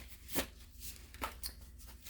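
Tarot cards being shuffled by hand, a few quick riffling bursts with brief pauses between them, close and quiet with no talking.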